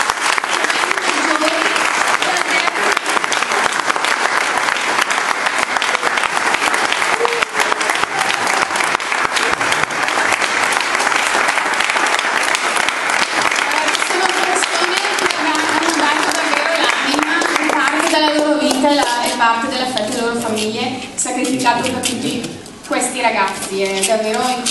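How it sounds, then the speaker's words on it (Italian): Sustained audience applause at the inauguration of a venue, dense and loud for around twenty seconds, then thinning near the end while voices emerge. "Vorrei un applauso per i nostri consiglieri."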